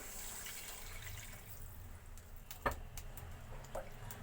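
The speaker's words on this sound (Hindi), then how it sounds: "पानी हमने इसमें ऐड कर दिया है।" Faint splashing and trickling water, with a few soft clinks, as water is poured into a pan of noodles with soy sauce and chili sauce in a quiet kitchen.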